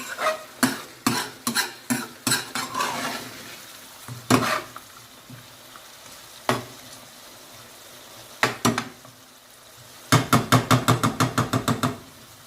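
Madras curry sauce being stirred in a metal pan, a series of sharp spoon-on-pan scrapes and clacks in irregular bursts, ending in a rapid flurry of quick knocks over a faint simmer.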